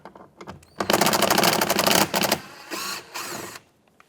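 A bolt on a 2009-2014 Ford F-150 front door is run out with a ratcheting tool, giving rapid close clicking bursts, one long burst followed by a couple of shorter ones.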